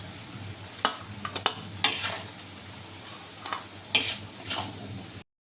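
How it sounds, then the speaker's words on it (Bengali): Onion and chili frying in hot oil in a pan, a low steady sizzle with a few sharp scraping stirs and clinks of a spatula against the pan, close and moderately quiet. "পেঁয়াজ আর লঙ্কা লাল লাল হয়ে গেছে,"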